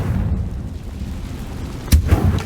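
An explosion from a Confringo blasting spell in Hogwarts Legacy: a single sharp, loud boom near the end, followed by a brief rumble. It rises over a dense, low, rumbling game ambience.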